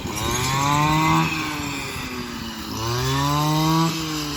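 A loud engine-driven machine cutting rice stalks roars close by, its motor rising in pitch, easing off, then revving up again in two clear surges.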